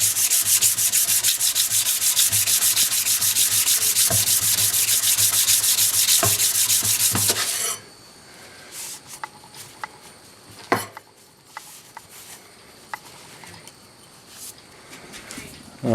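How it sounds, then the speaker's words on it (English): Rapid, harsh rasping of sanding rust off an old 1950s Record No. 4 hand plane, loud and continuous for several seconds before stopping abruptly, leaving a quiet room with scattered small taps and knocks. "I'll just clean some of the rust off of that."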